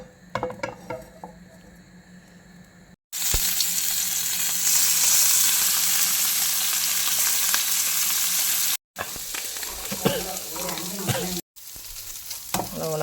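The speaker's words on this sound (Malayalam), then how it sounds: "നമുക്ക് ഉണക്ക മീനും കൂടി പൊരിച്ചെടുക്കാം." Dried fish frying in a hot pan, a loud steady sizzle that cuts in after a quiet stretch of kitchen clatter, pauses briefly, and returns softer with stirring scrapes.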